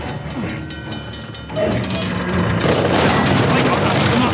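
A train rolls along its tracks in the video game Uncharted, with a low rumble and rattle that grows louder and fuller after the first second and a half, then holds steady, loud and close.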